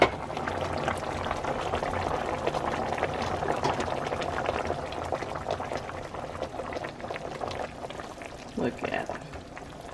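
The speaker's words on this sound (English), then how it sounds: "my sweet potatoes have been cooking for 10 minutes" Sweet potatoes boiling in a covered pot, giving a steady, close rolling bubble throughout, with a brief voice speaking over it near the end.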